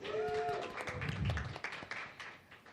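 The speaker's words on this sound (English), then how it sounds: "Round of applause for them, please." Audience applause for two student competitors at a business negotiation competition, a steady wash of clapping from a crowd that starts full and thins slightly toward the end, with a brief tonal sound early on.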